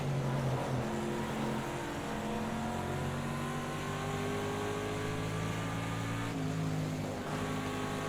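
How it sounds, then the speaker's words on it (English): Race car engine at Willow Springs droning loud and close, pitch stepping through gear changes as the driver downshifts into a turn, continuous throughout with a brief dip near the end. "Coming in, downshift for the turn."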